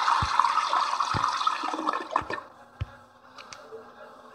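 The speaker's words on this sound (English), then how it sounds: "Are you mad because I flushed the toilet?" A toilet flushing in a horror video game, a loud rushing gush of water that tails off into trickling and refilling with a few soft clicks.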